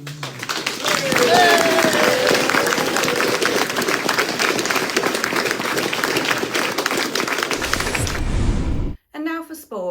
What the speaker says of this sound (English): I'd like to have you give a round of applause for the standard of workmanship.